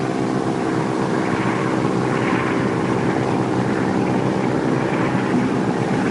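A BT-13 training aircraft in flight with its propeller set to low RPM, a steady droning engine roar mixed with wind rush, constant and unbroken throughout.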